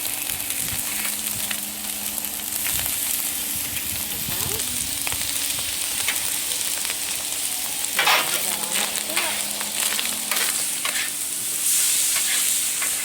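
Paella ingredients sizzle steadily on a Blackstone griddle, a close, continuous frying hiss broken by scraping and stirring strokes of a spatula, with a low hum underneath.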